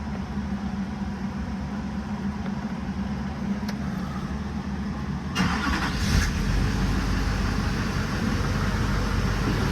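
A car engine with 310,000 miles on it runs steadily at idle, with a brief louder surge midway, heard close and alone.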